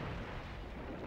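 A tank exploding in the 1975 film Jaws, heard as a brief, dense, roaring blast that fills the moment before cutting off abruptly.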